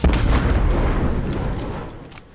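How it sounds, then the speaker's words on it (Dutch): A car exploding in the video game Fortnite, a loud, close, booming blast with crackling debris that slowly dies away over about two seconds, with no talking. "Auto is ontploft."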